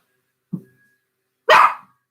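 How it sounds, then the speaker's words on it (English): A dog lets out a soft, short woof, then a second later a much louder, sharp bark. Both are close and heard alone, with no talking. "my dog is going to bark like crazy because somebody's coming home probably"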